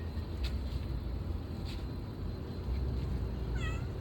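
A cat meows a few times in a garden over steady low background noise, with short faint cries and one clearer wavering meow near the end.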